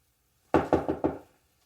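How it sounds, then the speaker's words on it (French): Four quick, firm knocks on a door opening onto a small service courtyard, evenly spaced and fairly close, then quiet. "On frappait à la porte qui donnait sur la petite cour de service."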